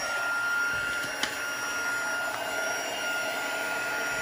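An embossing heat tool blowing hot air like a hairdryer, a steady whirring fan hum with a faint whine running continuously, close and moderately loud, with no speech.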